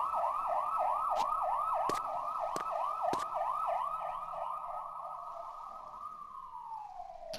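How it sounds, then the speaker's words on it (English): Police sirens in the video game The Warriors wail in a steady rising-and-falling cycle, loud and close, with a few sharp bangs cutting through before the siren slides down and fades near the end. "You hear the sirens?"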